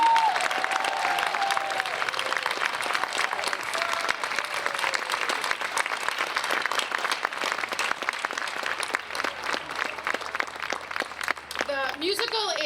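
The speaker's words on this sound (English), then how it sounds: "if we could just stand up and have a round of applause for them" An audience at a school musical's opening night gives a sustained round of applause for the pit orchestra seniors, dense clapping filling the hall with a few voices rising near the end.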